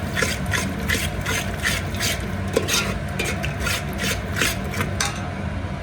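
A spoon stirs curd into egg pulao in a pan, giving a steady run of rhythmic scraping strokes against the metal with faint sizzling underneath.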